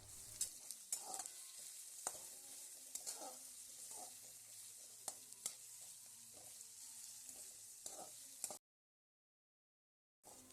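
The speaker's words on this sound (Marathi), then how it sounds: "कढईमध्ये आपल्याला थोडंसं तेल घालून कांदा आणि खोबरे मस्त भाजून घ्यायचे आहेत" Steady oil sizzle as onion and coconut roast in a little oil in a kadhai, with a spatula scraping and stirring through it, close and continuous, then a brief silence near the end.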